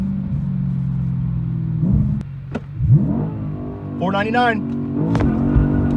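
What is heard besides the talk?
Audi B8 RS5 launch with clutch slipping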